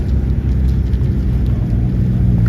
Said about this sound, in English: The car yellow M3 and a Catfish Camaro chopping harder than anything I've heard in a long time.